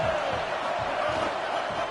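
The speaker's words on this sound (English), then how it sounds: "this crowd is turning it up a notch" A football stadium crowd at an Ole Miss versus Oklahoma game roars in a steady, dense wash of cheering, heard from a distance and swelling without a break.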